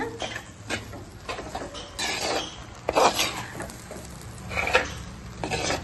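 Egg idli pieces are stirred in a pan, with soft scraping and occasional clinks of a spoon against metal in irregular bursts. The sounds are close but fairly quiet and alone, with faint sizzle in the background.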